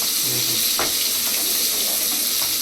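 Dosa batter sizzles steadily on a hot pan, a loud, continuous close-up frying hiss with faint clinks beneath.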